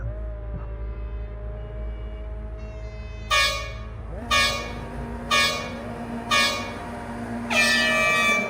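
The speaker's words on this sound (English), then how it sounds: "Waiting for the horns." Loud air horns blast five times in a rhythmic series at the start of a USF2000 race on a club track in Townsville, with engine drone and a voice underneath.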